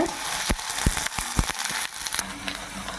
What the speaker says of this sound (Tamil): சின்ன வெங்காயம் கட் பண்ணி வச்சுருக்கேன் கொஞ்சம் சேர்த்துக்கலாம் நல்லா வதக்கி கொடுங்க